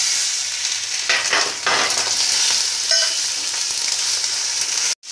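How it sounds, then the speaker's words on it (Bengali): Chopped tomatoes go into hot oil for a Bengali potato and bhola fish curry, a loud, steady sizzle and frying hiss with brief stirring scrapes, the sizzle continuing until a sudden cut near the end. "এবার দিয়ে দেবো কেটে রাখা টমেটো"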